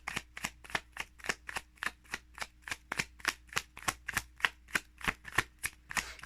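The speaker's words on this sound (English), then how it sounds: "I want to shuffle one more time." Tarot cards being shuffled by hand, heard as a steady run of crisp, close riffling snaps, about three per second, each sharp and even, with no talk over them.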